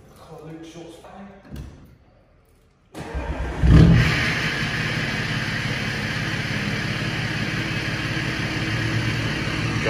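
A tuned Ford Focus ST making 500 bhp fires up from cold after a quiet lead-in. The engine catches loudly, flares into a sharp rev, then settles into a loud, raspy high idle, with voices in the background.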